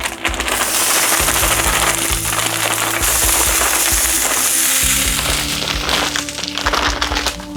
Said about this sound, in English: The pan's already hot, so you'll be able to hear this sizzle.